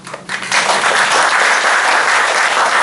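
A church congregation at a Sunday worship service breaks into applause, starting with a few scattered claps and swelling quickly into loud, sustained clapping from a large crowd.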